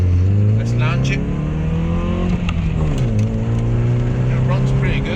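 A chipped VW Mk3 2.0 engine accelerating up through the revs, dipping at a gear change into second and climbing again, heard from inside with talking over it.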